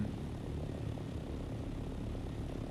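An aircraft in the Dune video game hovers and flies with a steady, dense engine drone that stays loud and unbroken throughout, with no talking.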